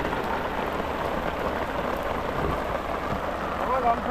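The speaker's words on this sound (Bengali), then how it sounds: "বাইরে কিন্তু মুষলধারে বৃষ্টি হচ্ছে" Heavy monsoon downpour pounding outside a tented boat on a Sundarbans river, a loud dense continuous roar of rain on surfaces with a low rumble underneath, no talking.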